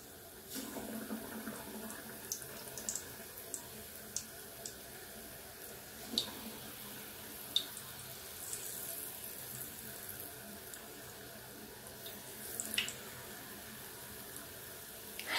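Tap water running into a kitchen sink for hand washing while puff puff dumplings are being fried: a steady, soft splashing hiss with a few faint clinks, and no talk.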